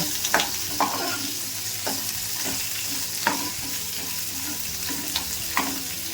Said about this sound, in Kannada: ಈರುಳ್ಳಿ ಕಟ್ ಮಾಡಿ ಇಟ್ಕೊಂಡಿದ್ದೀನಿ, ಅದನ್ನು ಹಾಕ್ಕೊತಾ ಇದ್ದೀನಿ